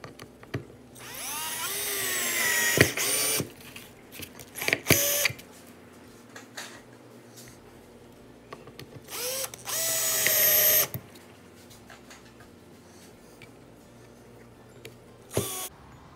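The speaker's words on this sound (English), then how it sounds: "I'm actually gonna do two screws per board" A power drill drives long screws into wooden boards for a decorative fall pumpkin, with two loud whirring bursts of several seconds each and shorter clicks and knocks between them, close by and with no talking.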